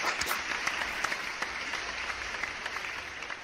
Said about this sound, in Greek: Χειροκροτάμε εμείς.